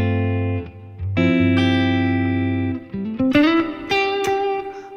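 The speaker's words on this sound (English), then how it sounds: "And this is the longer reverb, it's two plates." Sustained electric guitar notes and chords through two plate reverbs, ringing out with a long, lush reverb tail that blends one note into the next.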